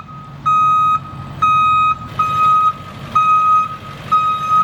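Five loud, steady electronic beeps repeat at an even pace, each about half a second long, over a low engine rumble.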